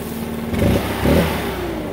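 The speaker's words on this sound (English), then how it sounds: "It's a four-stroke engine, but it still uses mix. So it's a STIHL's four-mix motor, and it has a completely different sound characteristic." A STIHL BR800C backpack blower with a four-stroke four-mix engine runs nearby, its motor swelling twice in short revs before settling back to a steady roar.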